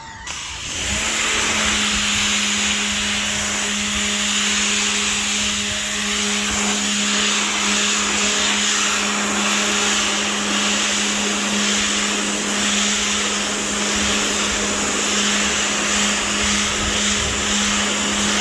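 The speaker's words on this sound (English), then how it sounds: "I'm just washing out the bed." Water sprays into the bed of a 2006 pickup truck that holds lichens and spilled paint, making a loud, steady rushing hiss over a constant motor hum that runs without a break.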